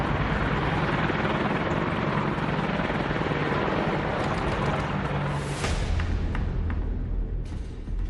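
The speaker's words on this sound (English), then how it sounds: "a pair of formidably armed Apache helicopters lifts off" Pair of heavily armed Apache military helicopters lifting off near the Ladakh standoff zone in winter: a loud, continuous rotor roar and turbine whine filling the whole stretch, swelling slightly with a harsher pulse toward the end.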